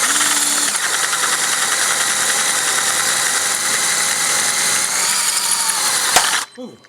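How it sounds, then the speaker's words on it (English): A stripped head bolt on a Suzuki engine is worked with a power tool that whirs and chatters steadily, then breaks loose with one sharp, loud crack near the end, followed by near silence. "Listen for this thing to pop. If it goes, it's just really loud noise."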